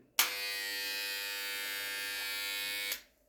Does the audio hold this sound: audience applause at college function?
no